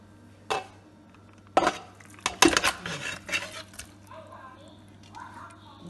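Solid yam pieces clatter and thump into a metal pot, a few distinct knocks followed by softer shifting and scraping.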